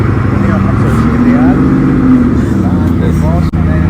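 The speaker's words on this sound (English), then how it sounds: "compete with the noise of the Bugatti S" Powerful Bugatti engine rumbling and revving loudly on an auction stage at the Riyadh car exhibition, a steady throaty roar with pitch rising and falling, heavy low drone throughout and a brief dip near the end; an auctioneer's voice talks over it.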